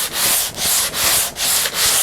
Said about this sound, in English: Let's just sand on this thing for a minute.